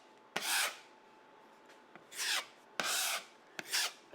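A wide trowel smoothing putty over a patched hole in a gyprock wall, making four raspy scraping strokes separated by short pauses, close and clear with no talk.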